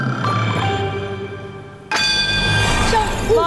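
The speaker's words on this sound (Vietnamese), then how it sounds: "chúng tôi đã nghe thấy tiếng chuông tín hiệu trả lời từ Việt Thành" A sharp buzzer-bell signal on a Vietnamese televised quiz show final sounds abruptly partway through, its bright ringing tone cutting in loud and sustained over a steady studio background hum.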